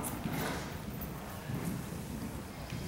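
Horse hooves at a dressage clinic arena during a riding lesson, a steady rhythmic clip-clop of a trotting horse, soft and somewhat distant under wind and open-air ambience.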